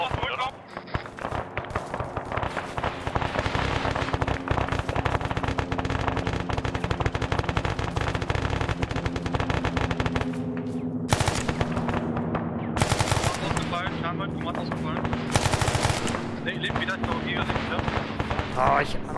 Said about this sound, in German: Beschuss an Brückkopf